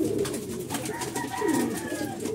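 Racing pigeons coo softly on arrival at a loft in Balaoan, La Union, on a very hot day, low repeated murmuring calls fairly close, with faint rustling and background noise.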